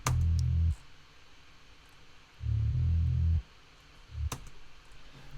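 Deep, rumbling filtered synth bass layer from Massive in two sustained bursts with quiet gaps, a few faint clicks scattered between them.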